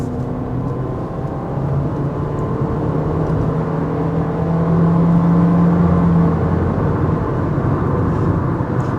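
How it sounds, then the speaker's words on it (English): A 2026 Honda HR-V EX-L compact crossover with 158 horsepower accelerating in sport mode, heard from inside as a steady engine drone and whir that rises gradually in pitch and loudness, with road noise underneath and no talking. "Now I'm going to go into sport mode and see what the difference is on acceleration."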